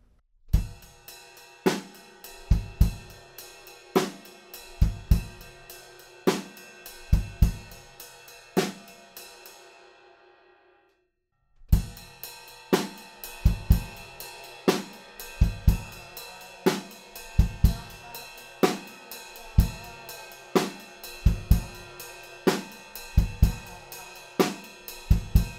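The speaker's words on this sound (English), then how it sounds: "we're over on our ride cymbal playing eighth notes, and our snare drum is on beat three" Half-time rock drum beat: steady ride cymbal eighth notes with a snare hit on beat three and kick drum, played close and loud, briefly stopping near the middle before the groove resumes.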